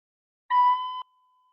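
A recorder sounds a single sustained B, a clean steady tone of about half a second, alone and close, with silence before and after.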